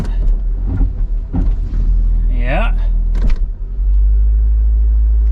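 A Honda Civic Del Sol idles with a steady low engine rumble throughout, under brief speech and faint mechanical whirs, the idle settling toward the end.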